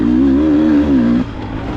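A two-stroke enduro motorcycle engine at a Corduroy Enduro race, loud and close, revving in a wavering, rising-and-falling pitch before dropping off abruptly near the end.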